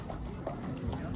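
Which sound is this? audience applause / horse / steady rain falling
horse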